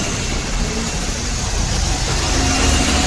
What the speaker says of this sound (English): There's a bin lorry there and it's missing all the bins.